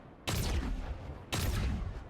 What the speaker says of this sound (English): We'll maybe use the turret to shoot the Vampire.